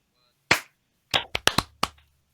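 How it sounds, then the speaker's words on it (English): Hand claps for syncing audio on a film shoot: one sharp, close clap in a quiet room, a pause, then a quick burst of five more claps. "Oh, just one clap"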